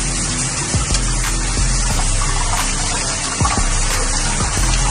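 Jute leaves for Haitian lalo are rinsed under a running tap, with a steady gush of water and splashing as the leaves are moved about in the stream. The sound is close and continuous.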